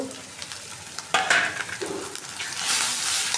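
Spices fry with onions in a pan while being stirred: a continuous sizzle broken by scraping stirs and a brief clatter, growing to a brighter, louder hiss near the end. No talking.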